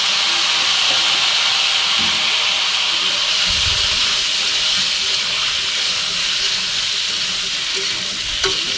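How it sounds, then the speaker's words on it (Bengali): Pieces of bottle gourd hit hot oil left from frying snakehead fish, setting off a loud, continuous hissing sizzle that stays steady and close, with a few faint clinks of a utensil. "এবার এই তেলে লাউগুলো দিয়ে দেবো।"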